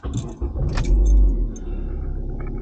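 Buick Verano engine cranking and catching, a low rumble that swells and then settles into a steady idle, with a brief jangle of keys near the start.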